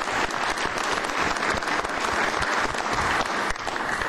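A council meeting audience gives a sustained round of applause for the parents, a dense, even wash of clapping that fills the whole stretch with no speech over it.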